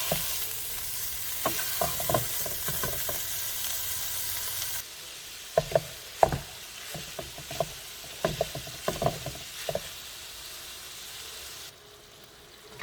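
Moose sausage broken apart with a utensil in a hot pan, a soft continuous sizzle and frying hiss punctuated by repeated scraping and stirring taps, close by with no talk.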